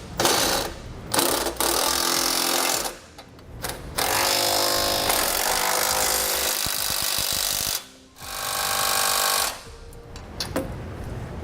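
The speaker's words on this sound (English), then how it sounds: "Now we want to snug down our nuts there." Ratchet or power tool tightening trailer hitch nuts on a 2014 Chevrolet Silverado front-mount hitch install, a loud close whirring and buzzing in several long bursts separated by short pauses.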